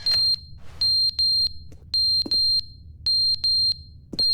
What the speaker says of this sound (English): Is it that alarm?